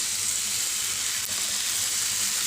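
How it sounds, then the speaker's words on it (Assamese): Chowmein noodles fry in a hot pan with vegetables, a steady loud hiss and crackle that runs without a break from start to end, with no voices. "এতিয়া মই ইয়াত চাওমিনখিনি দি দিছোঁ।"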